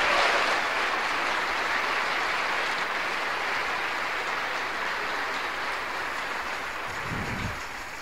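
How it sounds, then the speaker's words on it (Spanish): A church congregation applauds during a Spanish-language sermon, a dense, steady wash of many hands clapping that holds for the full eight seconds and eases off only slightly toward the end. "Denle un aplauso."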